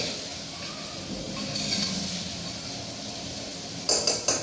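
A spoon scrapes and clinks against a pot of vegetable curry on a gas stove in a home kitchen, a soft background hiss giving way to a few sharp metallic taps at the end.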